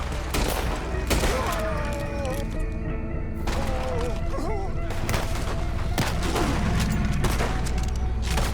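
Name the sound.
gunshots in the Red Dead Redemption 2 video game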